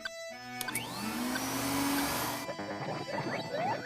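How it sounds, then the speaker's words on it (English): A cartoon remote-control vacuum system starts up with rising whirring tones that settle into a loud, steady electric suction roar, then breaks into chirpy mechanical warbles. "Remote control vacuum system on."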